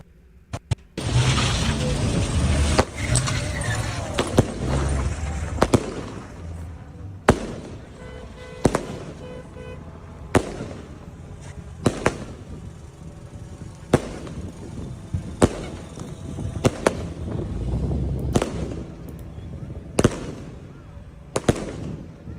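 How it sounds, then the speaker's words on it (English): Fireworks and firecrackers bang repeatedly in a street taken over during LA riots, sharp loud cracks at irregular intervals over a dense crackling, rumbling crowd background. "They've taken over a street and they're shooting off fireworks"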